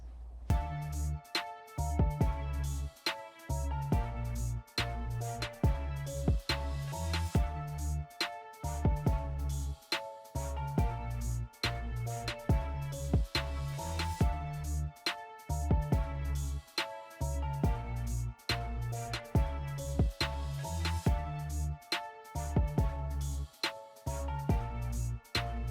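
An electric-guitar-like synth lead from Analog Lab plays a repeating melodic loop over a steady beat with punchy drums and bass, continuous and fairly loud, with no talking.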